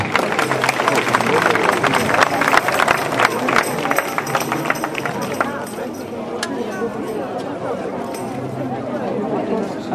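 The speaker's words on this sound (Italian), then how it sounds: "Un applauso a Maria Antonietta." Applause and crowd noise fill an outdoor falconry show at a medieval brigand festival in Lauria, a steady dense wash of clapping and murmuring voices for a falconer stepping forward with her bird, lasting throughout without letting up.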